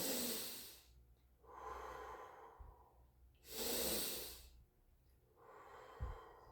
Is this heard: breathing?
yes